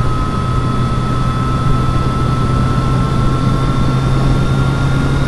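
Steady hum of a Triumph Street Triple 765R motorcycle engine while riding, holding an even tone throughout with no gear changes or breaks, mixed with constant wind rush.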